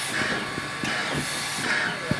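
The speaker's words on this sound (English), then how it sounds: "Might never see another steam engine as long as we live." A steam engine train hisses steadily with a loud, breathy rush of steam, broken by a few sharp clanks and knocks during a family outing.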